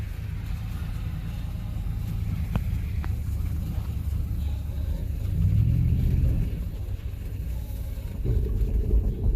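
A 2006 Land Rover LR3 with a faulty wheel speed sensor and alternator ripple, its engine rumbling steadily and swelling louder as the throttle opens, heard from inside with wind noise and a couple of sharp clicks.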